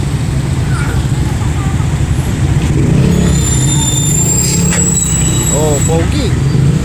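Motorized tricycles pass along a busy one-way street near a market, with constant engine rumble and road noise, faint horn-like tones and squeaks, and people talking throughout.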